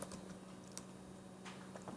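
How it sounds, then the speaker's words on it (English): Keystrokes on a computer keyboard while entering PHP code, scattered clicks at an irregular pace over a steady low hum, fairly quiet and close, with no talking. "Now notice I started typing and nothing happened"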